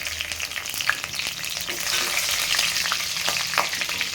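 Dried red chillies sizzle in hot oil while cooking vegetable sambar, a steady close frying hiss with scattered crackles throughout and no talking.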